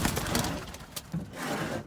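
White doves coo softly inside a cage, low rolling calls repeating close by amid light rustling, with no talk.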